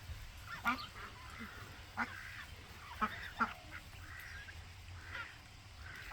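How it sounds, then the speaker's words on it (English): Call ducks and geese at breakfast time give scattered honks and quacks, several overlapping calls rising over a faint outdoor background, some nearer and louder than others. "see if I can find the little call duck"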